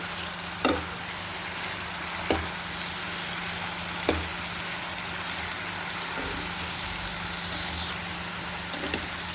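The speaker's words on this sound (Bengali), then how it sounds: "শাকগুলো মশলা দিয়ে সুন্দর করে নেড়ে চেড়ে কষিয়ে নেব।" Spinach leaves stir-fried with spices in a pan for a small-fish dish, giving a continuous steady sizzle under a low hum, with a few sharp spatula knocks against the pan.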